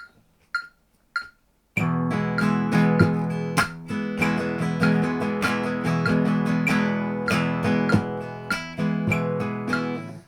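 Gypsy rumba rhythm strummed slowly on acoustic guitar, steady chords with percussive muted strokes after a few opening plucks, played alone and up close.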